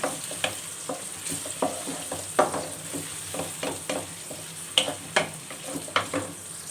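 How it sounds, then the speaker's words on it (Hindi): Garlic and ginger fry in a pan for a cauliflower curry, and a spoon stirs them through it. A steady sizzle runs under rhythmic scraping strokes, close and moderately loud, with no talking. "और अच्छी तरह से लहसुन अदरक को हम इसमें भूनेंगे।"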